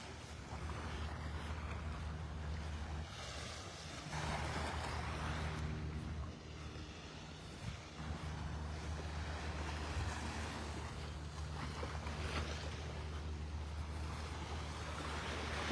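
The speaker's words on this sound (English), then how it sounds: "Right now the wind's not too bad, so it's not blowing into the mic." Wind and waves on a beach at Delnor-Wiggins in North Naples, Florida make a constant broad rushing roar, with swelling surges of surf and light wind buffeting on the microphone.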